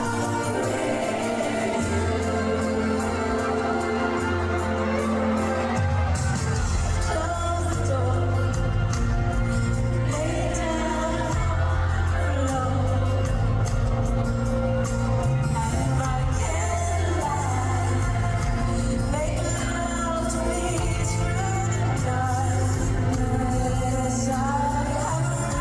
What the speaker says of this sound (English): Sounds like it's her backup singers, bro, but it's the crowd.